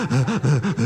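A voice mimics a child's excited gasping breath with four or five quick, rhythmic, voiced inhalations, loud and close.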